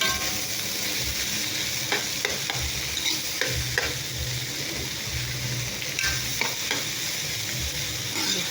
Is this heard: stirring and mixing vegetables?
yes